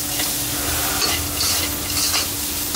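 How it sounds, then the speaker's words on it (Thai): Pork belly stir-fried with chili, salt, spring onion and coriander gives a steady, dense sizzle with scraping stirring strokes, close and loud throughout, with no voices. "หลังจากนั้นก็ผัดให้เข้ากันนะครับ"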